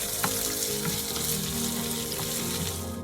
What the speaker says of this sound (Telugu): చక్కగా ఫ్రై చేసుకోవాలి.